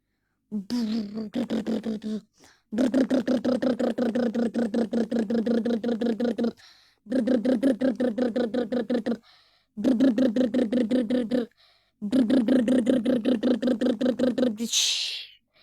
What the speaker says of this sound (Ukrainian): Треба, щоб прогрівся мотор, і я зміг взлетіти.